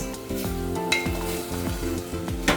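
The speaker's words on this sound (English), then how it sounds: "Give it a good stir on high flame" Cauliflower and carrots sizzle in a pan over a high flame while a spoon scrapes through them in a quick, rhythmic stir, close and clear.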